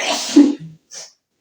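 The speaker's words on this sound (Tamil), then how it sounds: "அதான் எல்லாத்துலயுமே எனக்கு தும்மல் வந்துருச்சு" A single sharp sneeze erupts up close during a couples' sneezing challenge, followed by a short breathy sound and a faint trailing noise before silence.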